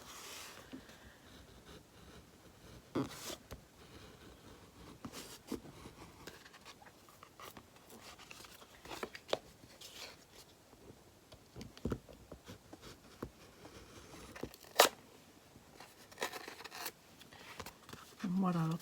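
Scissors cut a piece out of a doll pincushion in a quiet room, giving a sparse run of soft snips and small scratchy clicks spaced irregularly, with one sharper snip near the end.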